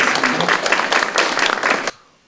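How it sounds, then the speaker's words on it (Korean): An audience at a bipartisan Korean policy forum claps to welcome a parliamentary floor leader as he arrives, producing a brief burst of dense indoor applause that stops abruptly into near silence. "박수로 맞으십시오"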